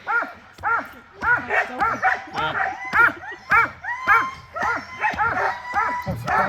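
Sled dogs at a kennel near Juneau, Alaska, barking and yipping in quick, repeated bursts, several dogs close by and loud, with some whimpering cries between the barks.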